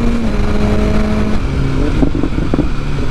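A tuned 2022 BMW S1000R motorcycle accelerating hard, its engine a loud, continuous roar with rising and shifting tones, heard close up over steady wind rush.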